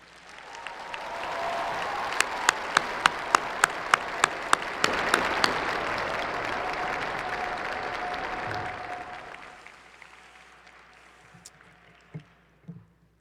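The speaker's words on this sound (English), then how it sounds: "Give them a big round of applause" A commencement arena crowd at a university class of 2020 celebration gives faculty a big round of applause, a dense sustained roar of clapping with a few sharp nearby claps, swelling and then fading out over several seconds.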